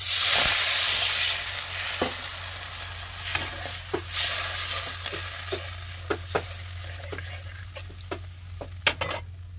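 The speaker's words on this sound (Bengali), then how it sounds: "আর ভালো করে কিন্তু খুন্তি দিয়ে নাড়িয়ে দিয়েছি" A spatula stirs a small measure of water into a pan of cooking rupchanda fish. The strokes make light, scattered scrapes and taps over a steady bubbling hiss, with no one talking.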